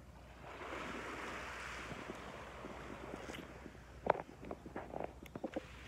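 Waves wash onto shore at Lingsat Beach, a soft continuous surf hiss with light wind, then several sharper splashes and clatters near the end.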